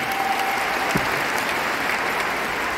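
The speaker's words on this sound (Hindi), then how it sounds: "खुद के लिए जोरदार ताली" Steady, loud applause from an audience at a business training seminar, dense clapping continuing evenly throughout with no talk over it.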